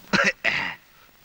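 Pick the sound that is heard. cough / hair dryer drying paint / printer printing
cough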